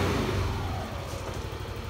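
A 2021 Yamaha NMAX 125 scooter with its engine bored up to 180cc using a 62 mm kit, idling close by as a steady, moderately loud mechanical hum with a slight dip partway through, no talking.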